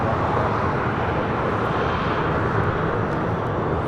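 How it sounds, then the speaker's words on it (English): An All Nippon Airways Boeing 787-8 Dreamliner departs LAX for Tokyo Haneda with a continuous broad engine rumble, steady and fairly close, and no talk over it. "This is All Nippon Airways 125 taking off to Tokyo, Haneda, Japan. 787-8 Dreamliner."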